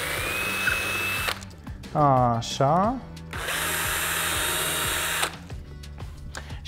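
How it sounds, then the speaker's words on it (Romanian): An electric screwdriver bores holes into cork, with whirring runs that rise and fall in pitch and a longer steady stretch of drilling. A brief spoken word comes between bursts. "Mai am nevoie puțin de șurubelniță electrică. Foarte simplu, o să dăm câteva găuri"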